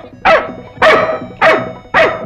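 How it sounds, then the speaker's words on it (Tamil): A dog barks four times at an even pace, each bark loud, close and sharp, with short quiet gaps between them. "ஏன் உன்னை பார்த்து நாய் குலைக்குது?"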